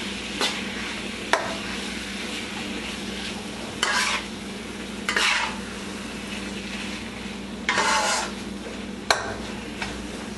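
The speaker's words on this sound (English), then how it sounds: "Keep stirring it." Eggplant bhartha is stirred in a non-stick pan over medium heat, with a soft steady sizzle and a low hum under a few separate scraping strokes of the spoon, plus a couple of sharp taps against the pan.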